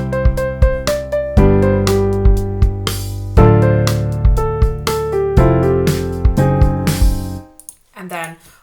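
MIDI piano chord progression in a pop composition that modulates up a semitone, with struck chords and bass notes in steady rhythm, then a brief voice at the very end.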